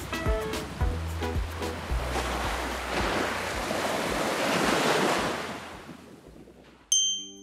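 Surf breaks and washes up on Magazine Beach in Grenada, a steady roar of waves with wind buffeting the microphone, loud and continuous before dropping away near the end.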